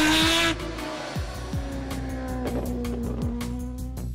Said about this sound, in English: What do you guys think about this sound? Some say it screams too much, but most people believe that it's the most beautiful sounding engine in the world.